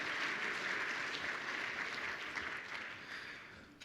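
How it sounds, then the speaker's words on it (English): A sold-out economic forecast audience claps continuously, a dense wash of applause that slowly tapers off toward the end. "Please join me in a round of applause."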